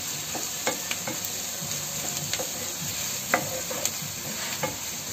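Onions sautéing with salt in a pan for prawn gravy give off a steady, close sizzle, broken by scattered clicks and scrapes of stirring, with no voices.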